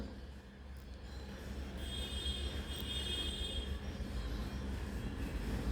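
A small ride train rumbles steadily along its track, a continuous low mechanical drone with a faint high whine, heard from close by.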